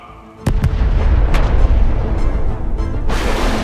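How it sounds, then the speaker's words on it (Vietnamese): A loud, booming explosion effect hits suddenly and rumbles on in a deep, sustained roar with a few sharp cracks on top. It stays close and heavy before giving way to a brighter hiss, with no speech. "Một tiếng nổ long trời lở đất phát ra giữa thinh không."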